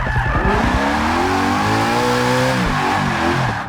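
Supercharged Ford GT350R making about 815 horsepower, driven in Forza 6: a loud, sustained engine roar whose pitch climbs and falls through gear changes, with tyre squeal mixed in and no talk.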